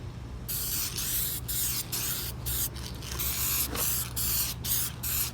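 An aerosol spray paint can dusts a hammered finish onto Chevrolet C10 door panels, hissing in a rapid series of short bursts with brief gaps between them, close and moderately loud.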